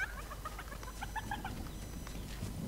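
A video-game chicken clucks in a string of short, bright, choppy calls over a low background rumble. The calls come in bursts at close range and fade out toward the end.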